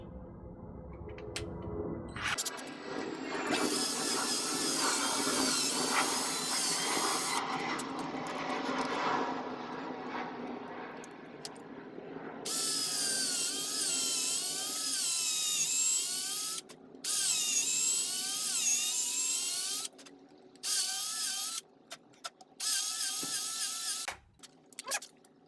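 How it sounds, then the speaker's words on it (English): Power drill boring holes while re-handling a drawknife, a long steady whine that drops in pitch under load, then several stop-start bursts near the end, close and loud. "That's the first hole drilled"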